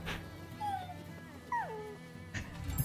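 A dog whimpers in the video game Rise of the Ronin, a few short rising and falling whines heard clearly over a low steady game-ambience background.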